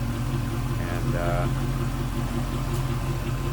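LS1 V8 idling in a 1935 Ford Cabriolet street rod, a steady low rumble close by with someone talking over it.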